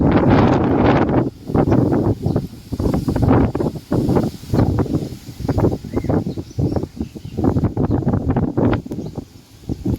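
Strong gusts of a small storm buffet the microphone in repeated loud bursts, roaring and rustling through banana and coconut trees, with short lulls between them.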